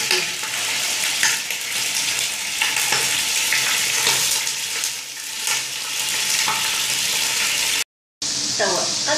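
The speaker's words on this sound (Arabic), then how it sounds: "توا باش نحط الدجاج، نحطو يتقلى باش تنقى الريحة القوية نتاع الدجاج" Chicken pieces fry in hot oil with a steady, crackling sizzle and intermittent stirring, close and fairly loud, and a short silent gap near the end.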